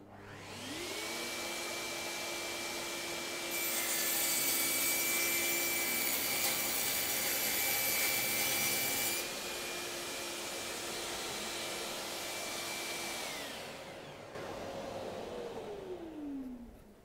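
A SawStop table saw with AIM technology cuts through a wooden board: a steady motor whine runs throughout, a louder, rougher rasp swells for several seconds as the blade bites, then the motor winds down. No one speaks.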